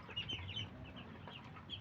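Chinese ducklings peep and call in a faint, busy chorus of short high chirps, repeated unevenly throughout with a low background rumble.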